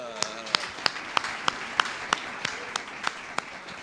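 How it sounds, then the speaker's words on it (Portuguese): Congregation at a church service claps in a slow, even rhythm, about a dozen distinct sharp claps roughly every third of a second, moderately quiet with faint room sound between them. "Palmas para Jesus, que é o autor da vida"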